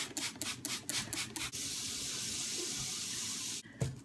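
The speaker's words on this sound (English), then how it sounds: "Pouring a 1/4 inch of water in the pan." Water runs steadily from a faucet for a quarter-inch fill of a seedling pan, a continuous close splashing rush after a few choppy starts, then cutting off abruptly near the end.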